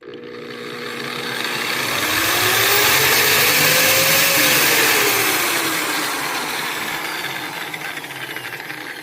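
Ford LCF ramp truck engine idling at low RPM, a steady close hum with a rising and falling whine through the middle as revs swell and settle, no talk.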